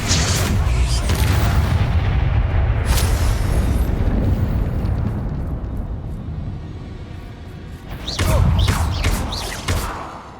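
Explosion spells from the Hogwarts Legacy video game burst as heavy, booming blasts, a sustained rumbling eruption followed by a quieter stretch and then another cluster of sharp thuds near the end.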